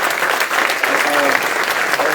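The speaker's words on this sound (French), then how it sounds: "Applaudissons-les très fort." Audience at a church conference applauding loudly, a dense continuous wash of clapping that fills the whole moment, with voices mixed into the crowd noise.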